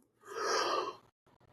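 A single breathy yawn from a man on a golf podcast, rising and swelling for about a second before trailing off into brief quiet and a faint breath.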